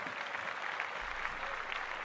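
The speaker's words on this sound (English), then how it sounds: "Clap that up. Oh, clap that up." Applause from a studio audience during a talk show segment, a steady wash of clapping held at an even level throughout, fairly loud and continuous without voices over it.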